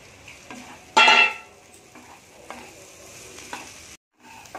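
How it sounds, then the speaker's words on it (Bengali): Fried soybean chunks and potatoes tipped into a tomato-onion masala with kasuri methi, landing with a loud burst of sizzling, then steady stirring and scraping in the pan, close and with no talk. "এবার সয়াবিন আলু ভাজাটা দিয়ে দেব"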